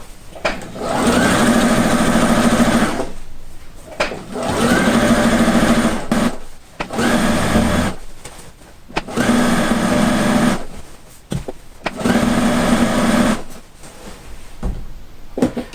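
A sewing machine stitches around the edge of a quilt in five loud, close bursts of rapid whirring, each a couple of seconds long and separated by short pauses.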